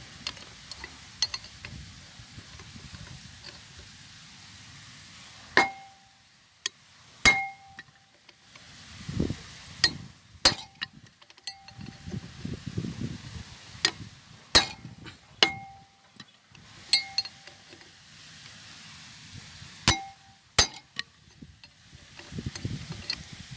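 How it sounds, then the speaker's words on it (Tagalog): A sledgehammer drives a broken bolt out of an R180 diesel engine, striking as sharp, ringing metallic blows spaced irregularly across the clip, close and loud over a low background rumble. "kung may maso kayo, mas magandang gamitin."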